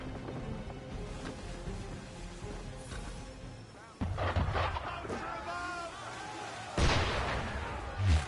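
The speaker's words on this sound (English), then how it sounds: "Why is he shooting at us?" A ship fires on the player in Assassin's Creed 3, with booming cannon-like shots bursting loudly twice in the second half. Ambient rumble runs beneath, and voices talk throughout.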